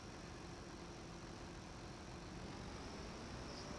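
Tractor engine idling in the video game Farming Simulator 22, a steady, even low hum with constant vibration holding unchanged throughout, fairly quiet and alone.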